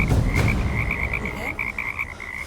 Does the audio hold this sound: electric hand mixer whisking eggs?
no